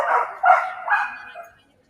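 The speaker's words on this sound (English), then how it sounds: "Sorry about the dog." A dog barks close by in a quick run of three or four loud, yappy barks, then falls quiet.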